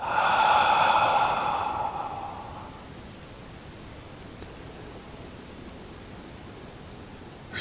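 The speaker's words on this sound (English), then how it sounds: "breathing out with the ha sound" A long audible exhale with a soft open "ha" during a seated tai chi breathing exercise, breathy and close for about two seconds, then fading into quiet room noise.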